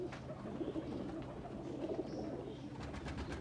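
Baby high-flying pigeons soft-cooing, with a few low, throaty coos repeating close by against faint background noise and no speech.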